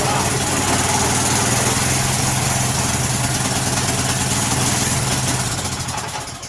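Craftsman walk-behind trimmer engine running loud and close with a steady, rough buzzing drone that fades slightly at the end.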